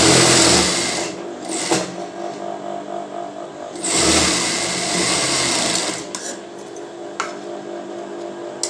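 A sewing machine joins a bra seam in short, stop-start runs of close motor hum and needle ticking, with several louder bursts and brief pauses between them.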